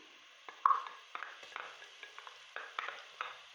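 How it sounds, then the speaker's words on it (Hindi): Crushed garlic frying with lightly browned onions in a pan for a chana dal and beef curry, giving a faint steady sizzle broken by soft stirring scrapes and light taps. "और लहसुन को भी हम लाइट सा गोल्डन कर लेंगे।"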